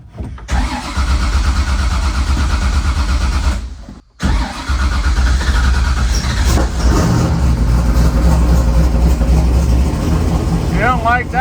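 An 1100 whp Corvette cold-starts after a brief pause, then settles into a loud, rough idle close by, with a sudden surge in the last seconds; people talk over it.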